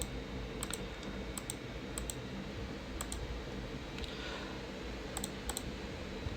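A computer mouse clicks in SolidWorks CAD software, giving a few sharp, close double clicks spread over a steady low room hum, with no talking.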